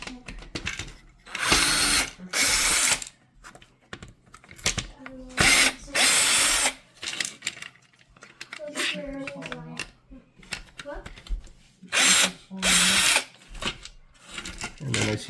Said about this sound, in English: So I'm going to take off some more screws.